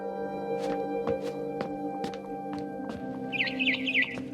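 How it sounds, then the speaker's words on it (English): A barn swallow chirps outside a window in the game What Remains of Edith Finch, with a run of short, sharp tweets spaced through the scene over a faint background tone. "Then I heard chirping outside my window."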